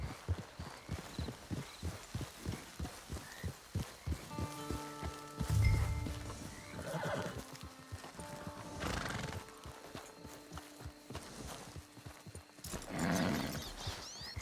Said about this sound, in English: It's your horse.